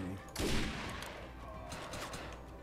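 Gunfire in the video game Defiance: a sharp loud burst followed by a scatter of lighter shots trailing off, with faint talk underneath.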